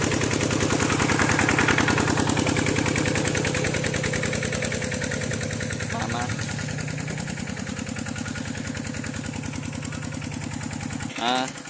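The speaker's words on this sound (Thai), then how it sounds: "ได้อีแห้งแล้วครับ สูบเต็มหมู่บ้านเลยครับ" A small engine-driven water pump runs continuously close by in a village, a loud steady rapid chugging throb that barely changes, with a brief clattering burst near the end.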